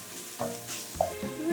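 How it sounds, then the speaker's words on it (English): Sausage for jambalaya sizzles and crackles steadily in a hot pan, close and fairly quiet, with occasional scraping stirs. "I'm going to check my sausage, which I hear sizzling away."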